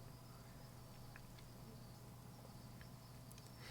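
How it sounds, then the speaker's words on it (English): Crickets chirp in tall grass in the video game Our Life, a steady, quiet insect trill holding throughout over a low, constant ambient bed. "The chirping of crickets in the tall grass greeted you, quiet and familiar."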